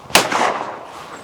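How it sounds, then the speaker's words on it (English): A shotgun fires a single loud, close shot at a target during driven game shooting practice, a sharp blast followed by a short fading echo. "So I close my gun up, put my safety off, pull,"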